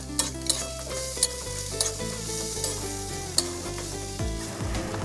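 Crushed Maggi noodles stirred while frying in a pan, with a steady sizzle broken by sharp scrapes and clinks of the utensil against the metal, behind continuous background music and tones.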